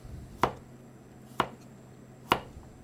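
A knife chops a carrot into oblique pieces on a cutting board, producing three crisp, evenly spaced chops, close and fairly quiet, with no talking.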